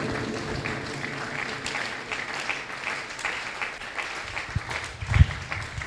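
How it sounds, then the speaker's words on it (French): Church congregation applauding during a service, a sustained patter of many hands clapping at moderate distance, with a louder clap or thump near the end. "Je veux qu'on acclame la parole de Dieu"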